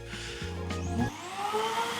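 A stationary kitchen vacuum cleaner runs with a steady, loud motor whine and broadband rushing hiss. The hum shifts in pitch about halfway through and then continues unbroken.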